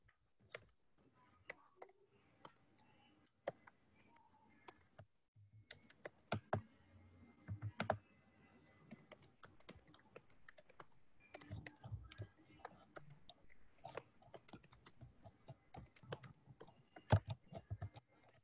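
Several computer keyboards clatter with scattered clicks and bursts of keystrokes as students type at once, with brief pauses and faint background sounds throughout, and no one speaking.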